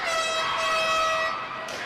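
An air horn blasts at a high school boys basketball game, a single loud, sustained honk lasting over a second before fading into gym crowd noise.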